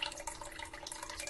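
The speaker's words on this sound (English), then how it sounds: "pouring water" Water running from a tap into a sink, a steady close splashing stream with a faint dripping edge, short and fairly quiet.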